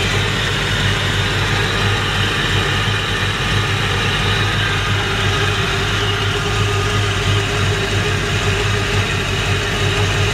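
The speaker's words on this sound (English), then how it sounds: "Nice running engine." A 1956 Chevy 3100 pickup's 350 V8 with Vortec heads idles smoothly and steadily up close, a constant low rumble with an even exhaust note and no voices.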